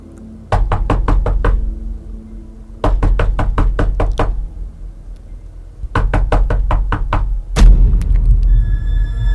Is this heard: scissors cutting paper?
no